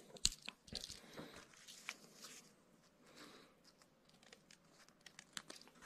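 Seam sealing tape cut from a roll during gear repair on an old military tarpaulin, heard as close, quiet crinkling and crunching snips with a few sharp clicks, no talking.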